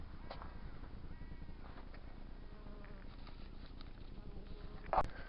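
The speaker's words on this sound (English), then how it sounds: "The bees love the clover." Bees hover around a patch of clover beside an old abandoned rail bridge, a faint buzzing drone heard outdoors against low background rumble, with one brief louder knock near the end.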